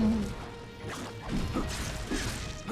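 An enemy shatters in Majin and the Forsaken Kingdom, a loud crash followed by several crunching, clattering impacts close by.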